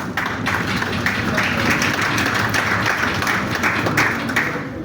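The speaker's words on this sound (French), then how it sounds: "je vous invite à l'applaudir" An assembly audience claps for its eldest member, Jacob Witt, at a provincial assembly: dense, steady applause from many hands fills the hall throughout, with faint talk underneath.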